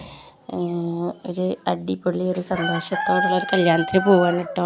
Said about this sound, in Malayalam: വോയിസ് ഓവർ കൊടുക്കുന്നതിൻ്റെ ബാക്കിൽ കോഴികളൊക്കെ കൂവുന്നുണ്ട് കേട്ടോ.